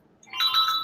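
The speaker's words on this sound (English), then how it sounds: "That one was a phone." A phone's ringtone chirps briefly, a faint electronic tone rising in under a second against near silence.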